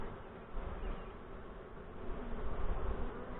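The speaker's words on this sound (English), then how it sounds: "Lots of bees." A dense, continuous buzzing of many honeybees swarming around an open hive nearby, a steady droning hum with no talking.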